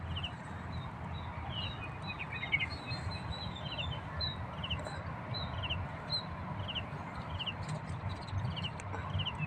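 Birds in woodland beside a house give repeated short, high chirps, faint and somewhat distant over a low background hum of outdoor ambience.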